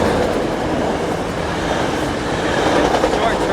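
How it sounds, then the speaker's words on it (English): A short train rolls along a railroad track just behind an outdoor home workout spot, a steady broadband rumble of wheels and cars heard fairly close and continuous throughout. "Short train. So don't mind, but we got a railroad track right behind us."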